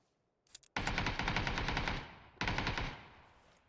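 Automatic AK rifle fire rattles in the shooter game PUBG, two close bursts of rapid shots, the first longer, then a brief pause before the second, with no talk.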